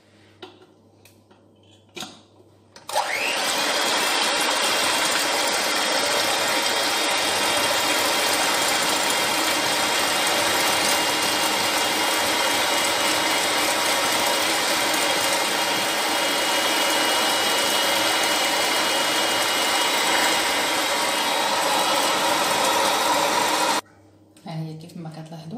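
Electric mixer beating eggs with sugar for a cake, a loud steady whirring drone that starts abruptly, runs for about twenty seconds and then stops.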